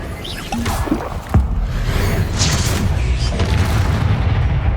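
Repulsor spell blast in Hogwarts Legacy: a sharp booming impact near the start of a busy combat scene, followed by continuous rumbling and scattered bright magical crackles.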